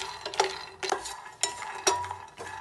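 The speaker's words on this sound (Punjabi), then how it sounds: "ਹੁਣ ਨਾ ਆਪਾਂ ਮੂੰਗਫਲੀ ਨੂੰ ਭੁੰਨ ਲਾਂਗੇ" Peanuts being dry-roasted over a slow-to-medium gas flame and stirred in a pan, giving a few sharp scraping and rattling strokes spaced about half a second apart, close and fairly loud, with no talking.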